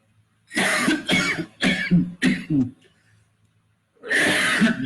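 Several harsh coughs in a quick cluster, close and loud, followed by a pause and one more longer cough fit.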